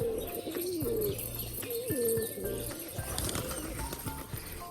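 Pigeons coo repeatedly in low, rolling phrases, close and fairly loud, with other bird calls and chirps mixed in over a busy background.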